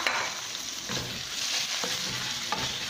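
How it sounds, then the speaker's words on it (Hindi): Steady close sizzling of minced chicken breast frying in a pan, with occasional scrapes and soft knocks of a spatula stirring. "अब इसमें चिकन को फ्राई करेंगे"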